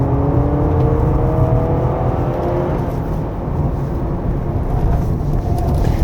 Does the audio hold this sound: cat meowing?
no